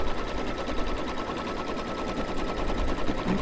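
An embroidery machine stitches a quilted baby bib in the hoop, running a steady, fast continuous chatter of needle strokes at close range with no talk.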